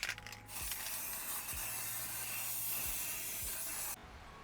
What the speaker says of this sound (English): we've got the scanning spray down